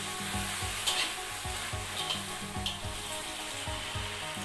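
Fried shrimp tossed in a hot pan with fish sauce: a loud continuous sizzle broken by rhythmic scraping strokes of a spatula, about two per second, close up.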